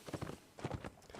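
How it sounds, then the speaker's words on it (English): Horse hooves beat in quick clip-clop bursts during a Mount & Blade line battle on the North & South mod, a rider galloping past, fairly close and moderately loud, with no talk over it. "Price looking to do a drive-by on his horse"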